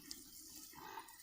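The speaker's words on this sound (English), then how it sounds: "So I am gonna water these." Water trickles quietly onto potted flowers in a garden, a soft, faint splashing and pattering stream that runs steadily for a moment with a small drip near the start.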